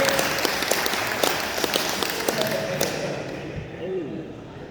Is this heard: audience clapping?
yes